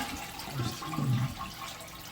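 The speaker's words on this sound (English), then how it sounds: "So as you can see, perfect, flushes every time." A toilet flushes with a faint, short rush and swirl of water heard from a little way off, with no voices.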